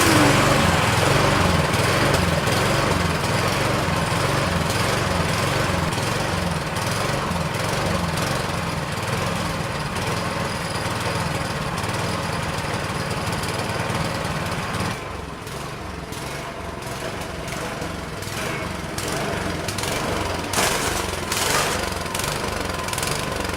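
A repaired snowblower engine, its gasket refitted, runs steadily off choke and settles into a smooth, even idle, loud and close with a constant mechanical drone and no talking.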